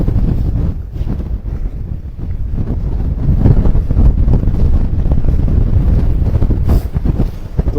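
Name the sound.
wind whistling on ice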